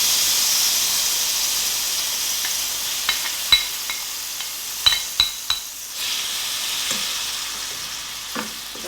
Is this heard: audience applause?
no